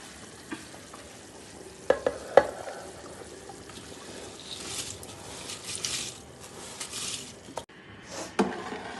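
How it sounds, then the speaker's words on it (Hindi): Rice pours into a pot of boiling water for chana pulao with a brief rattle and splash, followed by bubbling, stirring and faint scraping sounds, no voices. "चावल डाल दिया जी पानी में।"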